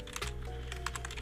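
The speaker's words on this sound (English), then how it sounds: "now just click enter on our keyboard" Rapid clicking keystrokes on a computer keyboard, a steady run of close, light taps while a custom theme name is being typed, with no voices.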